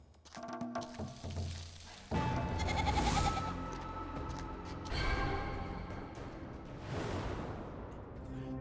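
Goats bleat in a Hindi cartoon moral story: several loud, wavering bleats arrive in bursts over a busy backdrop of music and sound effects, with a thump partway through.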